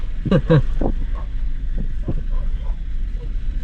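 Strong, cold wind on Mt. Banahaw buffets the microphone with a constant low rumble, while a voice speaks briefly near the start and then trails off.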